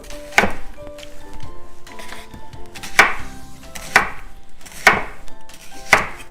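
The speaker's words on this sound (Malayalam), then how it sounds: "സവോള ഇതുപോലെ വലുതാക്കി സ്ലൈസ് ചെയ്തെടുക്കുക." A knife slices an onion into large pieces on a cutting board: five sharp, close chops spaced unevenly with short pauses between them, no voices.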